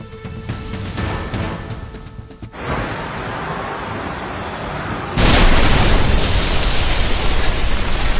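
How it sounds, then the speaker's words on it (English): A loud, sudden roaring blast from a pickup truck explosion cuts in after a stretch of rushing noise, leaving a sustained heavy rumble like burning fire. "A terrifying and shocking explosion from a pickup truck."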